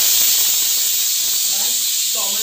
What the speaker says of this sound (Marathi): आता पाणी घालते आणि चांगली उकळी काढून घेते.